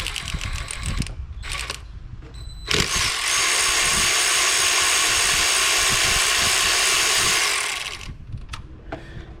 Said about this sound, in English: to remove that thermostat housing, we're going to go ahead and remove the two 10mm bolts